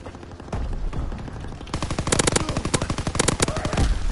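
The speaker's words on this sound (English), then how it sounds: "Always use submachine gunner, ARs, or submachine guns." Rapid bursts of video game gunfire from submachine guns and assault rifles, a few scattered shots followed by dense, loud automatic volleys.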